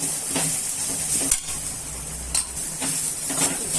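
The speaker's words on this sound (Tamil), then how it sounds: "நல்லா ஒரு வதக்கி விடுங்க. நல்லா வதங்கட்டும்." Sliced raw banana being sautéed in a pan gives off a steady, loud sizzle, with a few stirring scrapes breaking in at intervals.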